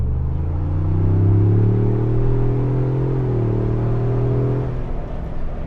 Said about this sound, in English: Yeah, this engine is really potent,